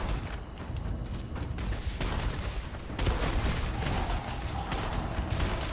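Starfield combat gunfire rattles almost continuously in dense overlapping volleys, loud and close, with sharp louder shots breaking through the sustained barrage and no speech.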